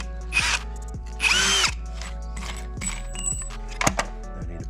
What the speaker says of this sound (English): So small hole first, which will guide the bigger drill bit to go through.